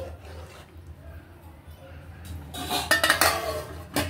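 Semolina pulihora is stirred in a pot and a lid is set on it, with a burst of metallic scraping and clinking and a final clank near the end, heard under a voice speaking.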